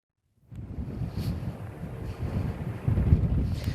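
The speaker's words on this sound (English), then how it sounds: "you can tell that it's still very windy here as I try to stand in this one place" Strong wind buffets the microphone of a reporter standing outdoors at St. Mary's, a steady low roar that gusts louder toward the end, with no talk.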